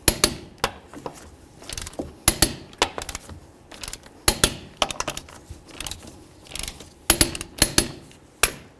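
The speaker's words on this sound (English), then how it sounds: "let's torque these to 100" Torque wrench clicking as the wheel lug nuts on a 1994-2004 Chevy S-10 are tightened to 100 foot-pounds, a series of sharp, close metallic clicks and ratchet snaps in irregular bursts, with no talking.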